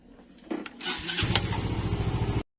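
A motorcycle engine starts outdoors, a brief cranking and sputter quickly catching into a loud, close, rhythmic idle chug before cutting off abruptly.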